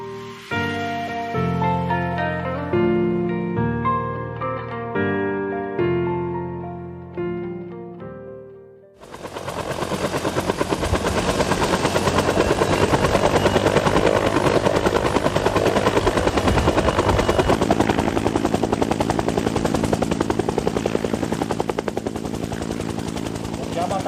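A helicopter in flight: a few seconds of music first, then the loud, steady thrum of rotors and engine takes over and continues close and unbroken to the end.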